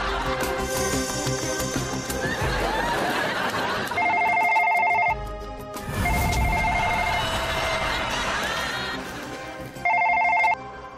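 An old-style telephone rings in repeated bursts over background music and drama scene audio, with short electronic ring bursts recurring near the start, middle and end.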